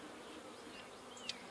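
Honeybees buzzing steadily around a horizontal hive split, a close, continuous hum with individual bees flying past the microphone and no talking.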